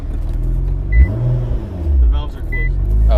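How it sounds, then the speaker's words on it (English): A Nissan GT-R engine idles after starting, a steady low rumble running throughout beneath people talking nearby. "Okay, the car started."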